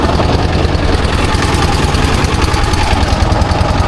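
A boat engine drones steadily and loudly on the Padma river, a constant close mechanical rumble with vibration and no talk.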